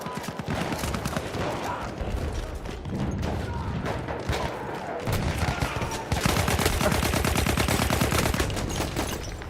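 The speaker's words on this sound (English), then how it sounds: "Just empty the gun." Rapid sustained gunfire from emptying a gun in Battlefield 1, dense overlapping shots and bursts rattling continuously, loudest toward the end, with faint voices underneath.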